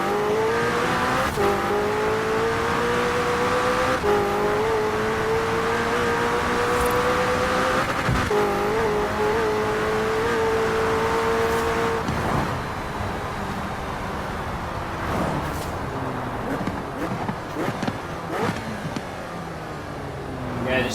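McLaren 600LT engine in Forza Horizon 4, a steady sustained drone with smooth pitch rises as it drives around a roundabout, loud and continuous, with a dip and rougher shifting revs toward the end.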